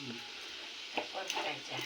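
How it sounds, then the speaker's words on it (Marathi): Masala of onion, curry leaves, chili and garam masala sautéing in hot oil in a pan for a spicy crab curry, giving a soft steady sizzle with a few scraping stirs and faint voices nearby. "चांगलं घालूया परतून"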